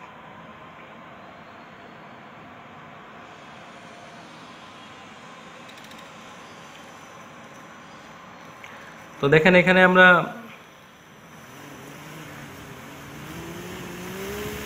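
A DC motor on a speed-control rig runs at full speed, giving a steady broadband whir throughout, with a short burst of speech near the middle followed by a rising, shifting tone.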